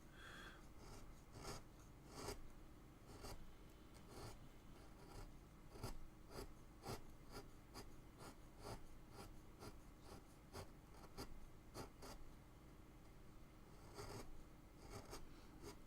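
A chisel carving wood, with repeated short scraping strokes in a fairly even rhythm, close but quiet, each cut a dry rasping swipe with brief pauses between.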